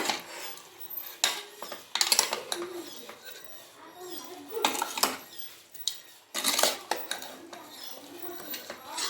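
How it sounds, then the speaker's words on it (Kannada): Salt being stirred into Giriraja country chicken pieces in a large pressure cooker, with several bursts of metal spoon scraping and clinking against the pot, separated by quieter pauses and faint background noise. "ಹಾಗೆ ರುಚಿಗೆ ತಕ್ಕಷ್ಟು ಉಪ್ಪು. ಮಿಕ್ಸ್ ಮಾಡೋಣ."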